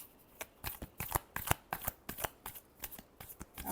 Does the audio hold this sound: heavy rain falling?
no